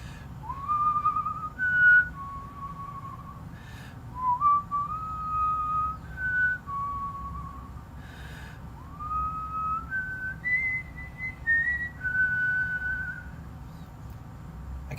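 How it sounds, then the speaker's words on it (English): A person whistles a slow, wandering melody with noticeable vibrato on the held notes, moderately close and clear over a low outdoor background hum, with short pauses between phrases. "Nice vibrato on the whistle too."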